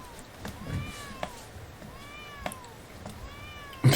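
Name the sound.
cat meowing in the video game Bomb Cat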